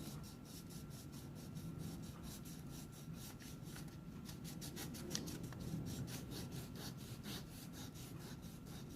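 Crayon or pencil rubbed quickly back and forth over paper laid on a leaf, a rapid rhythmic scratchy swish repeating at a steady pace, close and quiet, with no talking.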